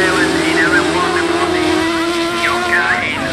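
Autograss racing cars sweep into a corner on a grass track. Engines roar loudly and steadily with rising and falling pitch as they pass close by, and a commentator talks over the noise.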